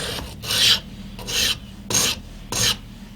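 A scissors blade drawn against a sharpening tool in four distinct rasping strokes, each a short, bright filing scrape with brief pauses between, close and alone.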